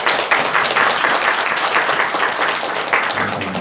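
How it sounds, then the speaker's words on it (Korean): A church congregation claps loudly together to encourage the teachers, a full, sustained round of applause close and continuous throughout. "우리 박수로 크게 한번 격려하겠습니다."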